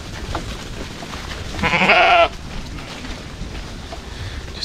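A single loud bleat from a ewe nearby in a sheep pen, lasting under a second, over quiet outdoor background noise.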